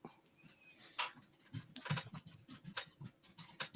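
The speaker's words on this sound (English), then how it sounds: "Dog, go lay down." A dog pants in quick, irregular breaths near the microphone, with soft scratches and taps mixed in over a quiet room background.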